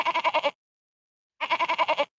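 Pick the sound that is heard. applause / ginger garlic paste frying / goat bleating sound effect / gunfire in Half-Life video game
goat bleating sound effect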